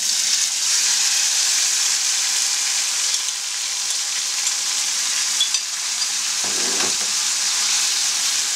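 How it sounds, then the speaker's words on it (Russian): Beef strips fry in a wok over high heat for Thai-style beef, making a loud, continuous, hissing sizzle with steady crackle throughout and no voices. "Помещаем туда мясо и обжариваем на большом огне."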